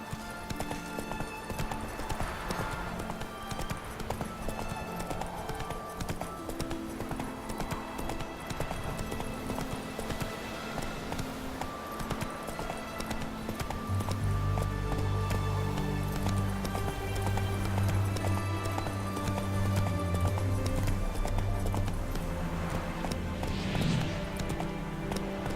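Roach, a horse in The Witcher 3, gallops with rapid, steady clip-clopping hooves throughout, close and prominent, while a low rumble swells in the later half.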